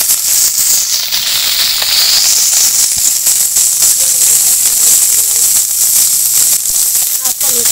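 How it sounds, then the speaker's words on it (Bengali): Fish turned over in a wok of mustard oil keeps frying with a steady, close hiss and sizzle, broken by scattered crackles and pops throughout. "এদিকটাও ভালো করে একদম লাল লাল করে ভেজে নেব।"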